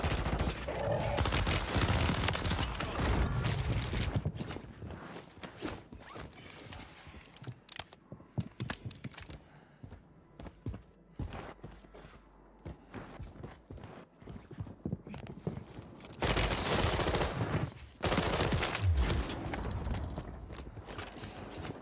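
Rapid bursts of Renetti gunfire in the video game Warzone rattle out in dense, loud volleys with brief pauses, mixed with in-game clatter and other battle effects.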